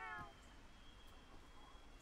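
A single short meow from a cat in Monster Hunter World opens, quick and fairly clear, then fades into steady low game ambience and hiss.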